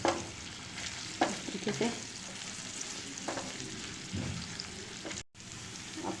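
Ginger garlic paste frying in oil for chicken and vegetable chow mein, a steady close sizzle with stirring scrapes and a brief spoken phrase over it.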